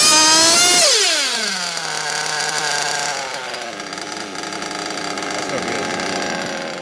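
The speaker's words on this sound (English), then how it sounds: "like what we just heard in the example where the idle wouldn't settle down and it was lean on the bottom" A nitro RC car engine tuned too lean revs high, then drops sharply and wavers unsteadily as its idle fails to settle, a loud, buzzy, close whine that rises and dips again.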